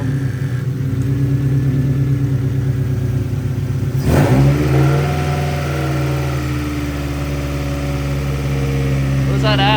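A Honda Integra engine cranks and fires, then runs at a steady idle with a brief rev partway through, loud and close throughout.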